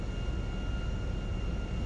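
HondaJet HA-420 jet engines in the GTA 5 video game on approach to a runway landing, a steady roaring whine with a thin high tone, moderately loud and continuous with no talk.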